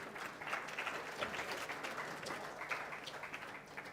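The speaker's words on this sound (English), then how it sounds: "keep on applauding, keep on applauding." A seated audience applauds steadily at the 2023 South African Mathematics Foundation annual awards function, a dense wash of many hands clapping at moderate loudness, lasting throughout without pause.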